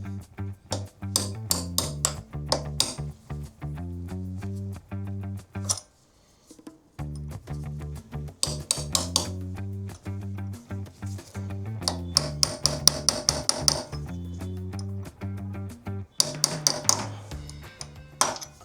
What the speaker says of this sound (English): now I'm gonna play with the washer. Let me see where is the best place to squash it.